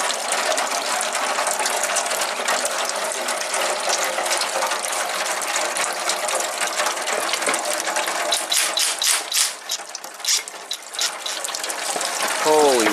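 Coolant pours out of a 1991 Audi 200 Quattro engine during a water pump job, a loud, steady gushing splash that runs nearly unbroken, with a voice breaking in near the end.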